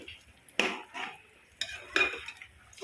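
Chicken masala with crushed kasuri methi being mixed in a pot, heard as a few close scraping and clinking spoon-against-pot strokes spaced over a quiet background.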